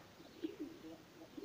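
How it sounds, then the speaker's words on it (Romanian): Breeding pigeons softly cooing in a loft, a few low murmuring coos over a quiet background, faint and close with no voices. "vreau să vă arăt la unii porumbei"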